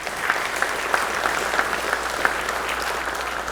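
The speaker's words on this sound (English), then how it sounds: "Give them all a big round of applause" Sustained applause from an audience at the Legends of the Outdoors Hall of Fame 2022 induction ceremony, a dense, even wash of clapping with a few sharper claps standing out, steady throughout.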